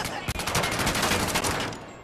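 Rapid gunfire from Medal of Honor: Above and Beyond, a dense burst of repeated sharp shots that fills the whole moment, loud and close.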